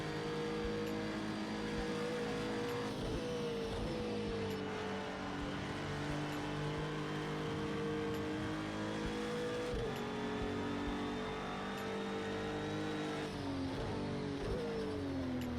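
A GT3 race car in Project Cars 2 at Bathurst, its engine held loud and close as it revs hard through each gear. The pitch climbs steadily, then drops sharply at every upshift before climbing again.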